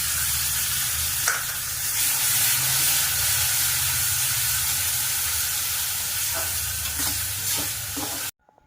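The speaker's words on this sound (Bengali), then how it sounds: "টমেটো বাটাটা দিয়ে দিলাম।" Ground tomato paste sizzles and spits steadily in hot oil with spices while being stirred in a pan for fish curry with cauliflower, a continuous close frying hiss with occasional sharp pops, cutting off abruptly at the end.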